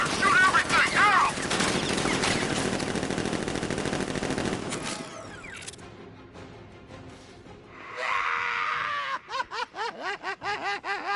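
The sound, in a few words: machine gun fire in video game Batman Arkham Knight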